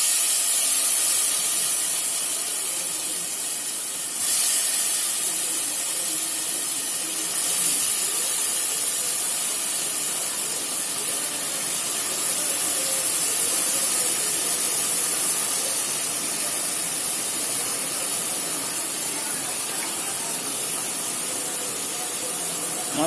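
Raw banana pieces frying in hot oil with curry leaves for a banana curry, a loud, steady hiss and sizzle that keeps going close by, with no talk over it.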